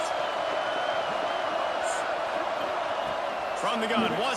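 Stadium crowd in EA Sports College Football 26 swells into a steady, loud roar as the defense lines up on third down, with a commentator talking over the noise throughout.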